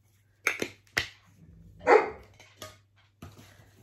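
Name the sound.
dog barking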